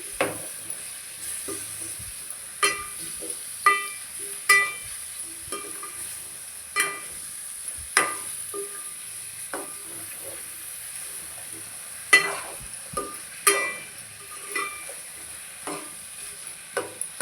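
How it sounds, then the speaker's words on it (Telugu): Chicken pieces, cleaned with lemon, salt and turmeric, fry in oil for a chana dal chicken curry, giving a steady hiss of sizzling with frequent sharp clinks and scrapes of a stirring utensil against the pan. "ఇలా ఫ్రై నూనెలో ఫ్రై చేసుకోవాలి చికెన్ ముక్కల్ని"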